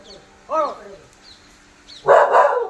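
A dog barks near a household where a dog is giving birth: one harmonic yelp, then a louder rough bark about a second and a half later, over quiet background.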